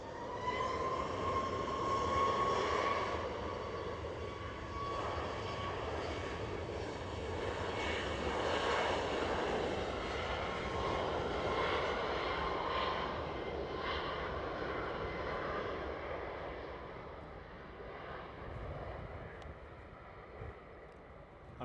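A close airliner engine roars at Edinburgh Airport, a loud sustained drone that swells early and slowly fades over about twenty seconds, with no voices.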